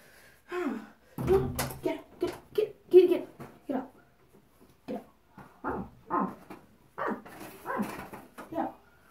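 Dogs barking and whimpering indoors, short repeated yips and whines in uneven bursts with pauses between, close and fairly loud, with a voice speaking among them.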